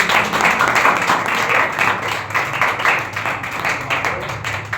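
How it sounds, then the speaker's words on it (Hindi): A church congregation at a Sunday evening worship service claps loudly and continuously for several seconds, a dense, steady wash of many hands close by with little else heard. "आइए जोरदार तालियां बजाएंगे अपने खुदा के लिए।"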